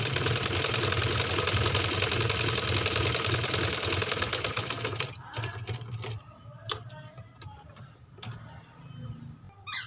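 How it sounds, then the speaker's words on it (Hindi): A sewing machine stitches long seams on a baby frock, running in a fast, steady mechanical whir for about five seconds, then stopping with scattered clicks and handling noises afterward. "अब हम घघरी पर इस तरह से लंबी सिलाई लगा लेंगे"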